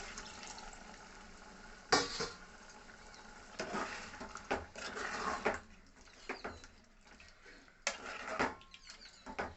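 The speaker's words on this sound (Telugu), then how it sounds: "ఇప్పుడు కొద్దిగా వాటర్ పోసుకుందామండి." Water poured into a country-chicken curry in a pan, heard as intermittent splashy gushes and trickles up close, with short clatters between pours and no talking.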